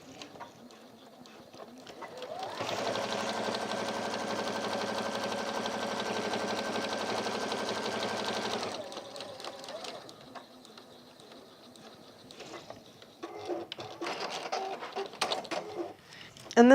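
An industrial sewing machine stitches through thick layers of a tool belt in a workshop, a steady whirring hum for about six seconds, fairly quiet, followed by faint handling clatter.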